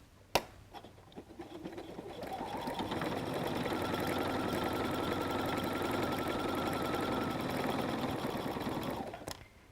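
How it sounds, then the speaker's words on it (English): Sewing machine stitching back over a messenger bag seam in one long, steady run of about seven seconds, building up after a sharp click and a few short starts, then cutting off near the end. "I'm going to go over this a couple of times"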